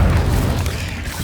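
The Incendio fire spell bursts in Hogwarts Legacy, a loud, deep, booming whoosh of flame that fills the moment and fades slightly.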